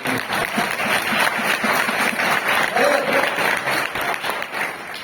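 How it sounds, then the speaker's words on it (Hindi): Audience clapping at an evening church revival gathering, a dense, steady burst of applause from a roomful of people lasting several seconds. "अरे ताली बजा दीजिए आपने।"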